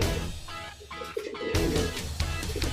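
Pigeon cooing as a racing bird returns during a training flight at Jala-Jala, Rizal, heard as soft repeated coos amid background bustle and noise.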